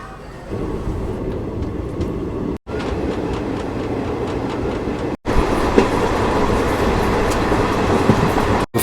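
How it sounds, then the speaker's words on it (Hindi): Ajanta Express, running between Kacheguda in Telangana and Manmad in Maharashtra, pulls into a station with loud, steady rumbling wheels and clickety-clack over the rails, sustained close by throughout. "फिलहाल ये आ रही है अजंता एक्सप्रेस"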